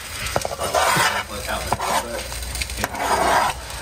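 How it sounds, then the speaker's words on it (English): Chopped onions scraped from a board into a pot to sauté for gumbo, with repeated wooden and metal scraping and clattering strokes, close and fairly loud, and a faint sizzle underneath. "You're gonna rake them all right in here and saute them."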